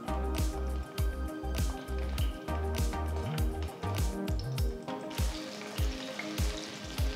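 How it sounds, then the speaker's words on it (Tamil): Chopped brinjal sautés in sesame oil in a kadai, a sizzle broken by a rhythmic series of soft, squishy knocks and scrapes as the pieces are turned. "நறுக்கி வச்சிருக்கிற கத்திரிக்காயை சேர்த்து நல்லா வதக்கிக்கலாம்."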